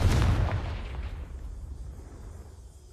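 A Confringo spell explosion in Hogwarts Legacy bursts with a loud, deep boom, then fades into a long rumbling tail for a couple of seconds.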